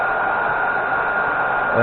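A constant loud blast of blowing air from a cheap handheld heat gun, used on heat-shrink tubing for eyeglasses, close by, with a voice starting faintly at the very end.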